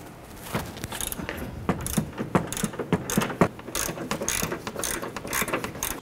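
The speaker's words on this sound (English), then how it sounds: "We're gonna use a 14 millimeter deep socket and with our ratchet and go in and loosen the three nuts on the top here." A ratchet with a 14 mm deep socket loosens the three top strut nuts on a 2009–2015 Honda Pilot, giving a close, steady run of rapid clicking bursts with a few sharper metallic clacks.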